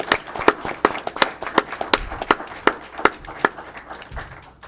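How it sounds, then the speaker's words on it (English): Scattered, uneven hand claps from an audience at a Gaston County Board of Commissioners meeting, sharp individual claps spaced through the room rather than a dense roar, with no talking over them. "if you'll all congratulate her with a round of applause"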